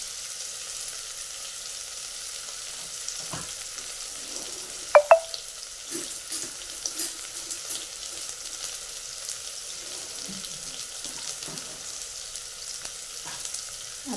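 Vegetables sautéed in a pan for masala rice, with a quiet steady sizzle and a few soft clinks and stirring scrapes, including one sharper metallic tap near the middle.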